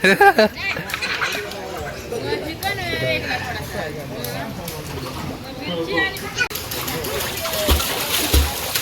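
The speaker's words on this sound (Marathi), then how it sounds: "शिवांश एकटाच पोहतोय मस्त मजा करतोय" Children splashing while swimming in a river: continuous sloshing and splashing water with lively voices chattering and calling throughout, plus occasional louder splashes near the end.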